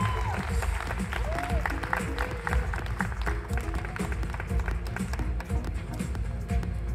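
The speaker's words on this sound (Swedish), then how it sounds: "en stor applåd för finalisterna" An audience applauds the finalists at a 2022 Swedish championship bodyfitness competition, steady clapping from the crowd in a large hall, moderately loud and continuous, with some voices and music underneath.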